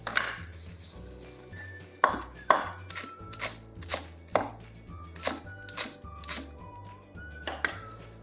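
A knife chops fresh dill, parsley and cilantro on a cutting board, with a steady series of crisp, close thuds every half second or so and a faint background hum.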